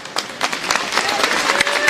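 A crowd at a high school basketball tournament semi-final applauds as an injured player is helped up, scattered clapping rising to a steady patter across the gym, with a commentator talking over it.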